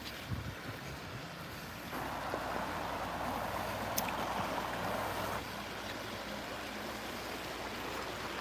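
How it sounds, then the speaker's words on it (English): Fresh creek water fed by mountain springs flows in a steady outdoor rush that is moderately close and fairly quiet, with no voices. "this water here is fresh creek water that comes from the springs further up the mountain"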